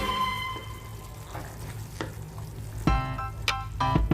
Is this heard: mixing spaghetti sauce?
yes